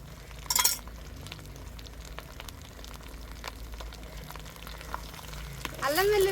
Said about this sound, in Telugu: అదే వేడి నూనెలోనే అల్లం వెల్లుల్లి పేస్ట్ వేస్తున్నా